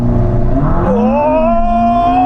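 Ferrari SF90 and Porsche 911 Turbo S launching side by side in a straight-line drag race, loud close engine roar with rising revs and an abrupt pitch jump as gears shift, no talking.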